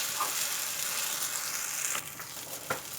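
Pink coconut-milk rice noodles stir-fried in a pan with a steady, loud sizzle throughout, broken near the end by a few scraping turns of a utensil.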